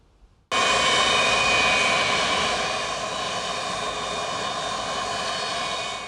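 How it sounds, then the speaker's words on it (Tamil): An Antonov AN-124 cargo jet landing at Mattala Rajapaksa International Airport sets off a sudden, loud, steady roar of jet engines. The roar holds almost unchanged and fades only slightly over several seconds. "ஆண்டோனோவ் AN 124 என்ற உலகின் மிகப்பெரிய 2வது விமானம் நேற்றிரவு மத்தல ராஜபக்ச சர்வதேச விமான நிலையத்தில் தரையிறங்கியது"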